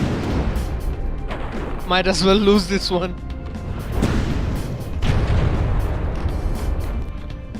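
Heavy cannon fire from naval warships in the video game From the Depths, booming repeatedly in deep bursts under steady game noise while someone talks throughout.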